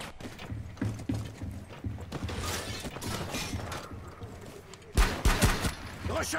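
Weapon reload in the shooter Rainbow Six Siege: a run of close mechanical clicks and ratcheting magazine sounds, followed by loud bursts of gunfire near the end.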